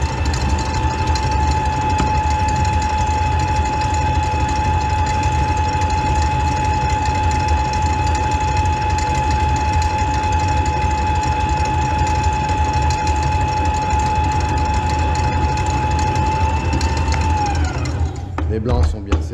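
A steady, loud electric mixer whirs continuously as it whips egg whites with sugar for a lemon-zest dacquoise sponge, holding an even pitch before slowing and cutting off in the last second.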